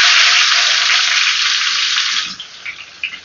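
Onions fry lightly in a pan for a potato curry, giving a loud, steady close-up sizzle that fades after about two seconds into softer crackles and stirring sounds, with no talking.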